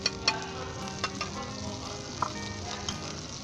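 An egg poured onto melted butter in a hot pan for a simple onion omelette sizzles steadily and close by, with a few light clicks of utensils and no talk.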